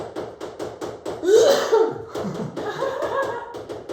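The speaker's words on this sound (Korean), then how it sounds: "입안이 말라갖고 자꾸 마른 기침이 나거든" A dry cough from a teacher with rhinitis who breathes through the mouth comes in a short burst in a quiet indoor room, close and fairly soft, with light knocks or taps around it.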